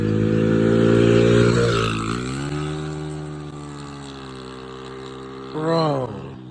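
A Honda CRF100 dirt bike fitted with a nitrous kit revs hard and holds a loud, close, buzzing engine note, then drops in pitch, settles, and gives one more sharp rising rev near the end.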